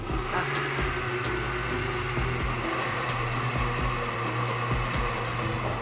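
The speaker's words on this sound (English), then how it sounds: "And she's just going to make like a rough puree in the blender." A blender runs steadily, pureeing a rough, fresh samat salsa in a Guatemalan kitchen, a continuous close, even motor whir with no talking.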